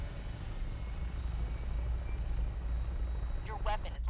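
Aircraft engines roar steadily through a takeoff in a Star Wars-style video game, a constant loud low rumble that swells slightly near the end, with a brief burst of chirping game effects at the close.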